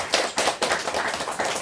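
A church congregation gives a short burst of applause after an Easter cantata service. The claps are close and come in uneven rhythmic waves that last under two seconds, and no one speaks.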